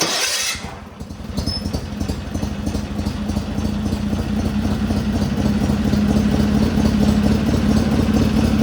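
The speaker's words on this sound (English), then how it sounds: "I had it running already just to make sure it was still running good" A small tractor engine idles steadily after a brief start-up burst, a low, even putter that holds constant and close without any voices.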